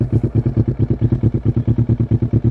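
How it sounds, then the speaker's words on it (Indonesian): A Kawasaki ER6 650cc parallel-twin motorcycle, modified into a bobber, idles close to its exhaust with a deep, steady, evenly pulsing burble, loud and alone. "Gue agak sedikit mendekat dari knalpot biar teman-teman mendengar suaranya kayak gimana."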